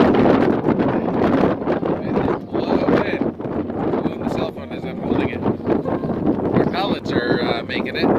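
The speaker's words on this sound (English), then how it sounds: "we're getting some pretty strong winds" Strong wind gusts roar and buffet a microphone outdoors at a homestead, a continuous rough rumble under a man's speech throughout.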